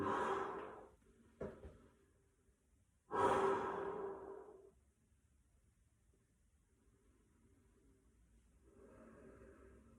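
Heavy breaths pushed out during an intermediate core and lower-back plank workout, a long exhale at the start and a stronger one around three seconds, then a softer breath near the end, close and alone.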